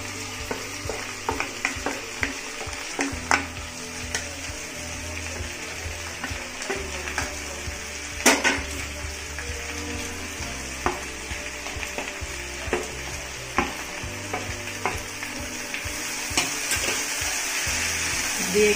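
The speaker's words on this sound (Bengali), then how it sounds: "দিয়ে একটু নাড়িয়ে নেব।" Vegetables and semolina fry in a pan over a full flame with a constant hiss of sizzling, broken by light scraping and tapping as they are stirred, up close.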